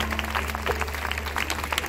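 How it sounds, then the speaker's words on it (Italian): Loud, close applause at an Italian film festival, brisk overlapping claps from the audience filling the short stretch without a break. "con la meravigliosa Dora Romano, qui facciamo un grandissimo applauso"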